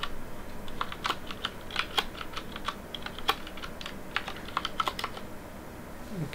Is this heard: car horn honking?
no